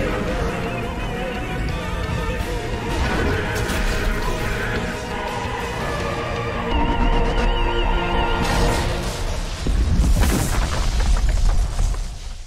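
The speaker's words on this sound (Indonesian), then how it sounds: "si Artoria ngeluarin jurus Excalibur Morgan yang ngasih efek ledakan yang bisa bikin epilepsi" Anime battle climax in which Artoria unleashes her Excalibur Morgan attack, a dense, roaring explosion effect with booming low rumble and crashing layers that swell continuously and surge again near the end.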